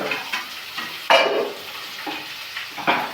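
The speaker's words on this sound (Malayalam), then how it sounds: "ഞാൻ ഇഞ്ചി വെളുത്തുള്ളി ഉള്ളി കൂടെ ഇട്ട് കൊടുക്കുന്നുണ്ട് ഇതൊന്ന് ബ്രൗൺ ആയി വരട്ടെ" Ginger, garlic and onion frying in a pan, a close, soft sizzle broken by several scraping stirs, with one louder stroke near the start.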